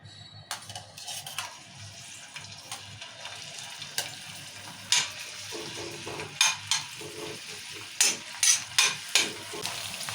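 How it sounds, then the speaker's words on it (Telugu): Green chillies fry in hot oil with amaranth leaves, a steady sizzle broken by repeated sharp scraping stirs of a spatula against the pan, which grow louder and more frequent toward the end. "ఇప్పుడు నూనె వేసినా కదా ఇప్పుడు పచ్చిమిరపకాయలు వేసుకుందాము"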